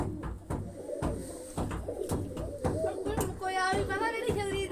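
Pigeons at their coop coo close by in soft, rolling calls, with a rising warbled coo near the end and scattered knocks and rustles around them.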